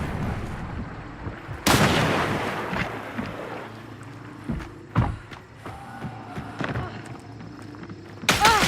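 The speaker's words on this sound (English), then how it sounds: "I did fire the shot. The shot went off, but I never got a hit marker." Gunshots in the video game Hunt: Showdown, with sharp loud reports over a steady wash of windy, watery game ambience, one heavy shot early and another near the end, plus quieter pops between.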